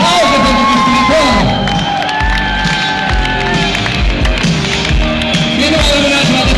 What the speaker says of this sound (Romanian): Aplauze pentru câștigător!